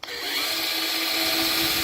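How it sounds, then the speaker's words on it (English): A power drill starts abruptly and runs at a steady high whine, boring a 9/64-inch pilot hole through wood and aluminum on a Harris 240 Sunliner pontoon boat for a diving board mount, loud and close with no speech. "Now I'll drill the rest of the holes."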